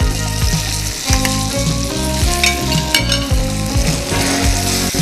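Ginger garlic paste fries with vegetables and salted rice in a pan, making a loud, continuous sizzle and crackle with repeated stirring and scraping throughout, all close by.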